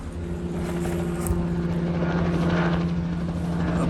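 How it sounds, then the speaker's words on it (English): A helicopter drones steadily overhead outdoors, its rotor thrum and engine hum constant and moderately loud for the whole stretch without any talking. "I hear a chopper."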